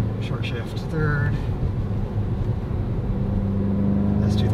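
A 2015 Volkswagen Golf GTI SE with front-wheel drive accelerates uphill under turbo boost, its engine drone rising steadily from inside the cabin, with a brief whistle and someone talking over the steady rumble.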